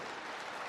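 An audience claps steadily and fairly loudly at a Punjabi gathering, a dense continuous patter of hands with no gaps across the short moment.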